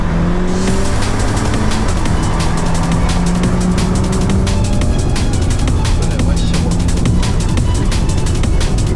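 Chevrolet Malibu 2 Turbo and Li L9 racing, loud engine roar with tire squeal and rapid ticking bursts throughout, close and continuous, with faint voices underneath.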